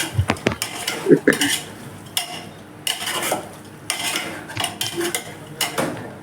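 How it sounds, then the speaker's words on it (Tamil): A ladle clanks and scrapes repeatedly against a metal pan while chicken is sautéed in masala, loud close stirring strokes in irregular bursts over a faint sizzle, with no talking. "மசாலாவில் கொஞ்ச நேரம் நம்ம சிக்கனை வதக்கி விட்டுட்டு தான் நம்ம மசாலா சேர்க்க போகிறோம்"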